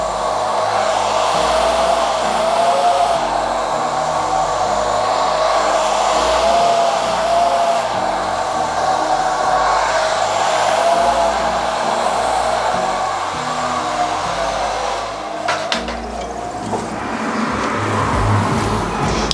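A handheld hair dryer blows heat at the roots of dry hair, a loud, steady whooshing whir running the whole time with slight shifts in pitch as it moves, ending with brief handling noises.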